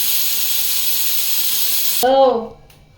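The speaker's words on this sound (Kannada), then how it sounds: "ಮೊದಲನೇ ವಿಷಲ್ ಹೊಡಿತಾ ಇದೆ, 2ನೇ ವಿಷಲ್ ಹೊಡಿತಾ ಇರುತ್ತೆ." A pressure cooker cooking chicken chops vents a loud, steady rush of steam for about two seconds. It then gives a short wavering whistle that fades quickly into quiet.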